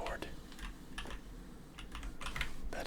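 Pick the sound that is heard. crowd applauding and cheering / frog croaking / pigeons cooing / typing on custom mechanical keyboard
typing on custom mechanical keyboard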